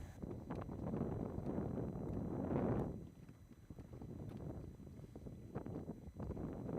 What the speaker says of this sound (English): even with the wind coming up now